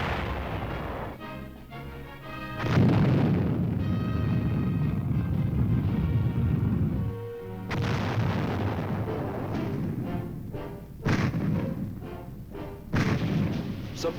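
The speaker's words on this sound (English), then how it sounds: "Supported by heavy fire, the airborne infantrymen advance." Heavy artillery fires in support of advancing airborne infantry, with rolling booms and thunderous blasts over a continuous loud rumble, some bursts sharper and closer, lasting throughout.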